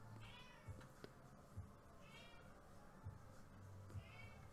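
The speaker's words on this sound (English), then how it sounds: "my cat is asking for some food" A house cat meows repeatedly for food, several drawn-out calls spaced across the stretch, moderately close but fairly quiet over a steady background hum.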